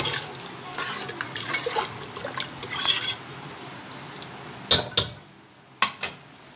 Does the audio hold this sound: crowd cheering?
no